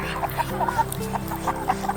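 Betong chickens, parent breeding stock on a Thai farm, cluck and chirp in short repeated calls close by, with someone talking over them.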